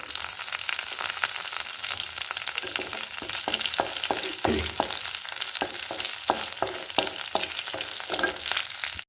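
Mustard seeds, chopped shallots and dried chillies temper in hot oil, giving a dense, steady crackle with scattered sharp pops throughout, close and fairly loud with no voices.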